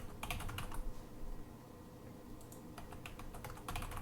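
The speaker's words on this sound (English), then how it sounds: "you would log in with your username and password" A username and password being entered on a computer keyboard, with quick bursts of light key clicks separated by a short pause, close and quiet over a low background hum.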